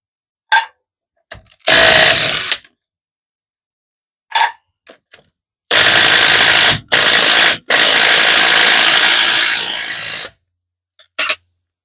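Ratchet straining against a tight wheel bolt on a Renault Twingo 2 raised on a jack, loud close bursts of clicking separated by silences, with a few short knocks in between.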